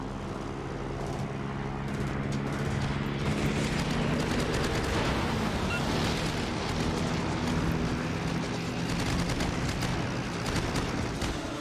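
Naval gunfire in World of Warships, repeated booming shots and rattling bursts over a constant low engine and sea rumble, loud and continuous with no talking.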